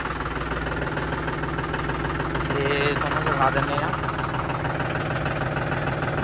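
A John Deere tractor with 411 hours of use idles with a steady low rumble and knocking beneath someone speaking nearby.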